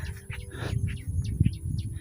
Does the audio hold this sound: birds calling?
yes